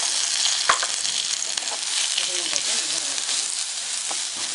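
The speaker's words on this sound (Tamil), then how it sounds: "அதே வானலியே பீர்க்கங்காய் தோடு பச்சை மிளகாய்" Ridge gourd peel and green chillies frying in the same pan over low flame, with a loud, crackling sizzle and scattered pops and spatters throughout.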